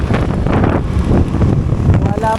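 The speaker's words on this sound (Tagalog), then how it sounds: "Mahangin, mahangin." Wind buffeting a microphone on a long motorcycle ride into Pililla, Rizal, a loud steady rumble throughout with a person's voice speaking faintly beneath it.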